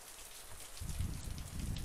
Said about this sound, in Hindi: बारिश हो रही है झिमिर झिमिर झिमिर झिमिर झिमिर झिमिर झिमिर